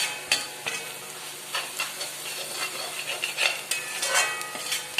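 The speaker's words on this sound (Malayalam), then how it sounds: "പൊടികളൊക്കെ ഒന്ന് മൂപ്പിക്കണം" Spice powders sauté in a pan while being stirred, giving soft, continuous frying hiss with repeated scraping strokes throughout; moderately quiet and close, no talk.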